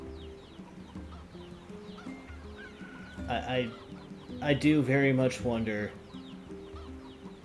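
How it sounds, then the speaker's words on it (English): Chickens in the video game NieR cluck and squawk repeatedly, with a burst of louder, busier calls in the middle, set over steady game music while someone speaks briefly. "They sound like Zelda chickens."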